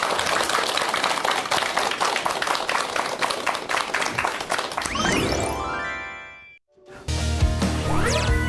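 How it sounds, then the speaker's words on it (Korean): An audience claps for a psychology professor being introduced for a lecture on meditation, with dense, steady applause followed by a chiming musical jingle. "여러분 큰 박수 부탁드립니다."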